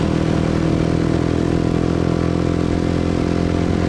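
A Honda CBR 150 motorcycle engine on a street in Saigon's District 7, a steady, loud, close drone holding a constant pitch throughout, with no talk.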